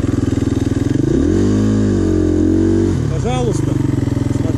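A motorcycle on Mitas EF-07 tires rides off-road up a small hill, its engine revving up and down in a close, loud pulsing drone while someone talks.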